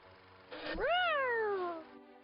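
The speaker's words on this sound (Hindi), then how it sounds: "उसकी आवाज बिल्कुल बिल्ली के बच्चे की तरह थी" A lion cub character gives a single high, rising-then-falling kitten-like meow, close and clear, lasting about a second and a half with no talk over it.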